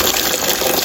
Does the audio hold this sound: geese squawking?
no